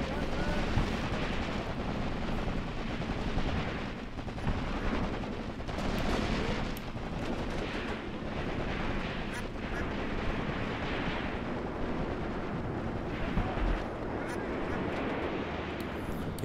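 Sustained battlefield gunfire from the WWII-era Eastern Front game Graviteam Tactics: Mius Front, with dense machine gun bursts and rifle shots rolling continuously and fairly loud throughout, punctuated by heavier thumps.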